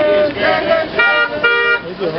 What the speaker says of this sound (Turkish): bir kornaya basın